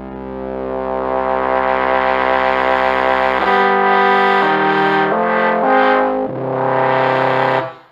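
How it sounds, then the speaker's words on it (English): Sustained synthesizer tone fed through a low pass filter, a buzzy harmonic drone whose bright upper content is cut back, then shifting through several held pitches, loud and continuous without speech. "This is a low pass filter. Lets the low frequencies pass through."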